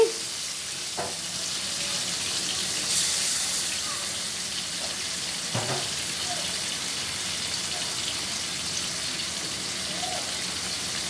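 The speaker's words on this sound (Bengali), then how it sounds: "তো মাছগুলো ভেজে নিচ্ছি।" Poa fish fry in a pan with a steady, even sizzle that holds for the whole stretch, broken by a couple of faint knocks and no talking.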